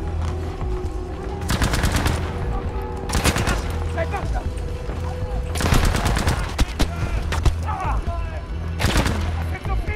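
Bursts of automatic gunfire in the World War II shooter game Battlefield 5, loud and close, with several rapid volleys separated by short pauses and scattered single shots.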